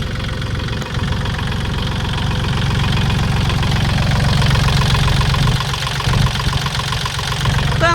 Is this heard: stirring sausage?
no